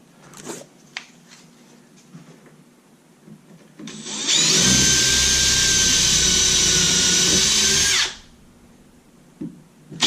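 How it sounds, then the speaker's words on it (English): A power drill boring 1/8-inch holes into a kitchen cabinet whines loudly for about four seconds, steady and high-pitched, with quiet clicks and handling noise before and after. "we're going to drill 1/8" holes into the cabinet to connect them"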